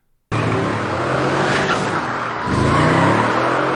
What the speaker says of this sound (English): A mystery car pursues him, and this is where we get a chase scene.